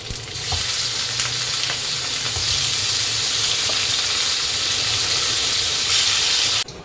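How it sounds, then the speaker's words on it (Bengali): Fish sizzles and crackles steadily in hot oil in a home kitchen pan, a loud, continuous frying hiss with occasional faint clicks and scrapes, no voices. "এবার আমি বাকি মাছগুলো ভেজে নেব।"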